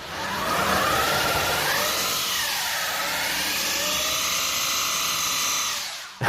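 A Bentley Arnage's big German V8 engine revs up under acceleration, a loud, smooth, sustained roar with rising and falling pitch, heard from inside the car and cutting off abruptly at the end.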